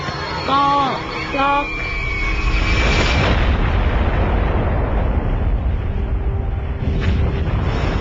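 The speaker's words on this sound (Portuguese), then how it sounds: "A Little Boy explodiu sobre Hiroshima com uma força de mais de 13 mil toneladas de TNT." The Little Boy atomic bomb exploding over Hiroshima: after a few brief voices, a loud broadband roar swells and holds as a sustained rumbling blast that slowly thins out.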